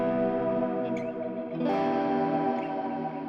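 Guitar run through a detuned plex delay on an Axe FX 3 processor, producing a dense, wavering wash of shimmering, chorus-like echoes that sustains continuously and loudly with no talking.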